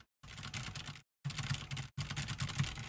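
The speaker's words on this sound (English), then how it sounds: "Kind of like those switches. Switches in my regular keyboard." Keyboard switches on a regular keyboard clack in fast, steady typing bursts, three runs separated by brief silences, close and fairly loud with no talk.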